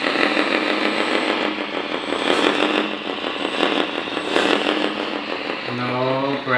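Simulated diesel engine from the sound system of a JDM 1/14 scale 8x8 metal hydraulic RC dump truck, a buzzy, rattling idle that revs and surges unevenly, with someone talking over it briefly near the end.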